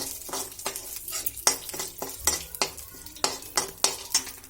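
Bay leaves fry in a pan after sugar has been heated, as a spatula scrapes and stirs in a brisk, even rhythm of about a dozen sharp strokes over a steady sizzle.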